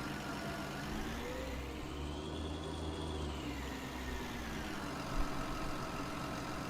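A tractor engine in Farming Simulator 19 drones steadily at a low, even idle, fitted with rear weights and nothing on the front. The hum holds faint and constant, without speech.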